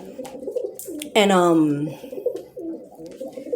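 A pet pigeon gives a loud, close, drawn-out coo that swoops downward, with softer murmured cooing around it and someone talking before and after.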